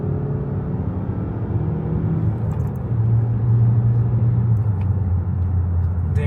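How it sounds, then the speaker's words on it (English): 2024 Mazda 3 sedan with the 2.0 e-Skyactiv-X engine accelerating on a hilly road with tight bends, a steady droning engine note rising in pitch and loudness from inside the cabin. "The acceleration is very linear, like you will not really feel like a sudden push like from a turbo engine."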